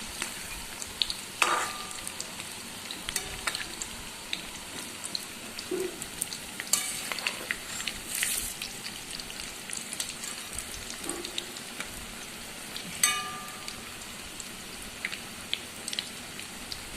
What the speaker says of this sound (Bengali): এবার আমি পকোড়াগুলো একে একে ভাজতে থাকবো এবং কড়াইয়ে দিয়ে গরম তেলে দিতে থাকবো।